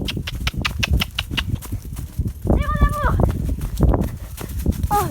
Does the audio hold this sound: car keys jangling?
no